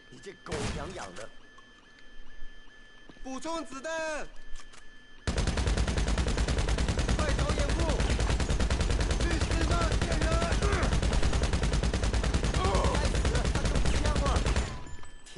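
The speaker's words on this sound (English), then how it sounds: "Assault SMG. Shoot him in the back." Sustained automatic Assault SMG fire in a GTA nightclub shootout, a dense continuous rattle running loud for about ten seconds after brief voices and game sounds at the start.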